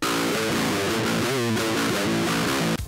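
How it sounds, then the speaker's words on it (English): Electric guitar run through an amp simulator with no speaker cabinet, giving a harsh, fizzy, buzzing distorted tone; heavy riffing plays continuously and loud for about three seconds, then cuts off abruptly near the end. "this is the sound of an amp simulator without a cabinet connected to it"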